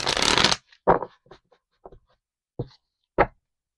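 Tarot cards riffled in a loud, dense burst, then single cards drawn and laid down as four or five sharp, separate slaps spaced apart in a quiet room.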